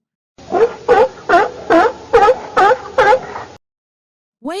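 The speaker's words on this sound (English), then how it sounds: "Seal." A seal calls in a series of about eight loud, close, rhythmic barking yelps at an even pace, then falls silent before a new sound begins.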